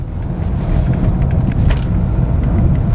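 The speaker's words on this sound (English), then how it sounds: "let's shut up for a second and enjoy that bumpy ride" Mercedes A-Class A180 driving over a bumpy, potholed street at moderate speed: a loud, steady low rumble of road and suspension noise inside the cabin, with faint knocks over the bumps and no talking.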